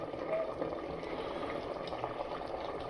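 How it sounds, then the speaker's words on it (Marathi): Chicken masala bubbling in a pan right after half a glass of water goes in, a soft, continuous boiling hiss and burble, fairly quiet and close, with no talking. "तसं तुम्ही अर्धा ग्लास पाणी टाकलं ना लगेच बॉइलिंग चालू झाले"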